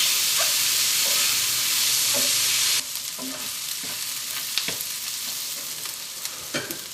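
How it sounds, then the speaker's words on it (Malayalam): Sliced onions with green chillies sauté in hot oil for Kozhikode biryani, a loud steady sizzle that drops off suddenly partway through, then continues softer with scattered clicks and scrapes of stirring. "ഈ സവോള ചെറിയൊരു ബ്രൗൺ ആവുന്നത് വരെ നമുക്ക് നന്നായിട്ടൊന്ന് വഴറ്റാം."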